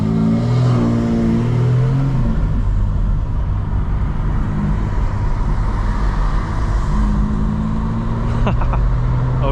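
A 900-horsepower 2025 BMW M4 Competition xDrive engine revs under hard acceleration, heard from inside the car as a loud, continuous droning roar that holds steady for several seconds.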